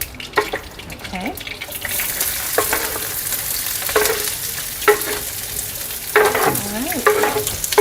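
Onions for shakshuka go into hot oil in a pan, bursting into a loud sizzle and crackle with stirring scrapes and clatter repeating throughout, close and prominent.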